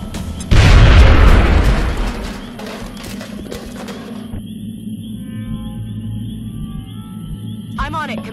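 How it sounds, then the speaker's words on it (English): A grenade blast in the XCOM: Enemy Within video game booms loud and sudden, then rumbles and fades over a couple of seconds, followed by quieter game sounds and a short electronic chirp. "Grenade out."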